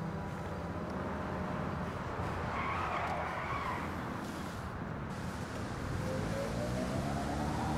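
Video game car (the Space Docker in GTA Online) driving with loud tire skidding and squealing, a continuous engine roar under screeching rubber, close and sustained with no talk.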